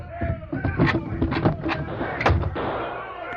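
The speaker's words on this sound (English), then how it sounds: "It's gunfire." Gunfire sound effect in an old-time Western radio drama, a cluster of sharp bangs and thuds scattered across a few seconds over a busy, noisy background, with voices murmuring underneath.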